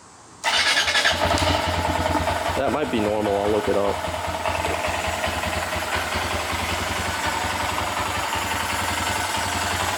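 A Honda Grom motorcycle engine with an aftermarket intake cranks and fires up, then settles into a steady, loud idle that runs throughout, with someone speaking briefly over it.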